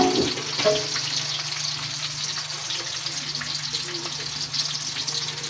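Onions sauté in a pan, giving a steady, close sizzle that runs continuously without a break.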